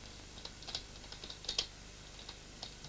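Quick, light keystrokes on a computer keyboard patter in an uneven run, close and soft against a quiet background.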